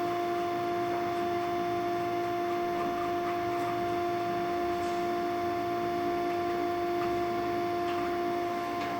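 A PR-360 twist linker sausage machine with a digital control panel runs steadily, giving off a constant electrical hum with strong tonal lines and faint intermittent ticking throughout, with no talking.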